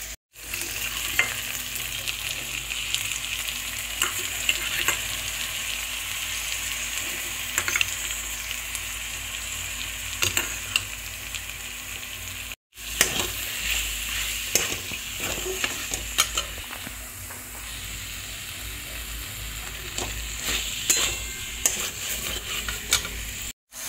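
Beaten yogurt being stirred into a sizzling potato and soybean curry in a pan, a steady hiss of frying with scraping stirs and clinks of the spoon against the pot, close and continuous.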